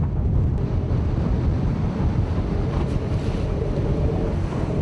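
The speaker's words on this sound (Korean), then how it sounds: "거센 파도가 배전을 집어삼킬 듯 몰아치는 바다 한가운데서" Rough open-sea waves pound around a fishing boat chasing yellowtail in strengthening wind and rain, a continuous loud roar of surf and buffeting wind with no voices.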